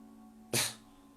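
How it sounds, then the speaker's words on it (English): A single sharp sneeze from someone suffering a cold, close and loud, bursting out abruptly against a quiet room hum and fading quickly. "stop sneezing your flu bugs all over me"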